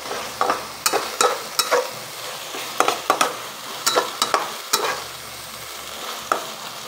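Garlic and onion fry in a pan for spaghetti sauce, giving a continuous sizzle broken by a run of sharp, clustered utensil scrapes and taps at an uneven rhythm, close and fairly loud, with no talking.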